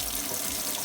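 Water gushes steadily from a kitchen sink tap after a water main repair on a homestead, a loud, close, continuous rushing splash with no talking.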